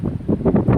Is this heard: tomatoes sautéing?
no